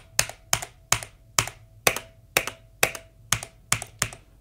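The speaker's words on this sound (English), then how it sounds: "You can hear it if I type really hard." A Drunk Deer mechanical keyboard is struck hard in about ten evenly spaced, loud, close clacks, each with a short resonant ring from the chassis. No one speaks.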